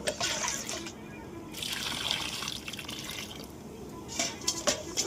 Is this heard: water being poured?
yes